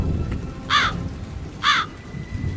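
A crow gives two harsh caws about a second apart over a soft, rain-like background hiss.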